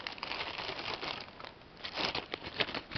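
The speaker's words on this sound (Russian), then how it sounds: "Сейчас мы их вскрыем, эти конверты, аккуратно" Paper envelopes holding carbon brushes for power tools are torn and opened by hand, giving close, continuous crinkling and rustling with a few louder crackly bursts near the end.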